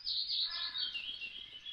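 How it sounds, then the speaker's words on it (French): Birds chirp and tweet in a forest in summer, a bright, continuous high-pitched song close by with fast trilling notes, heard alone without any voices. "vos oreilles s'emplissent du chant des oiseaux"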